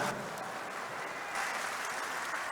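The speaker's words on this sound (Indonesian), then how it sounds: "Tepuk tangan untuk kita semua" A big crowd of Democratic Party members applauds at a rally in East Java for the installation of branch officials, giving continuous, even clapping that swells slightly near the end.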